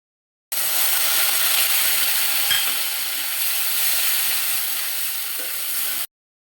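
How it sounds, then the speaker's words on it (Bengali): Onions cooking in a pan with a little water added, giving a steady, even hiss of simmering and sizzling that carries on without a break and is heard alone. "পেঁয়াজগুলো সিদ্ধ হওয়ার জন্য একটু জল দিয়ে দিব।"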